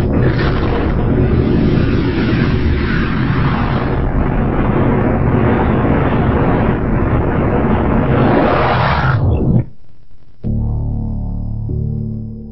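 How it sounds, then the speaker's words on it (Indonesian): A long, roaring explosion representing the Big Bang fills the sound with dense, loud rumbling for about nine seconds before cutting off sharply, followed by a quieter low, sustained tone. "Alam semesta mewujud dari ledakan titik ini."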